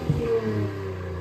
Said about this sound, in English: We'll put a video of the exhaust sound right here.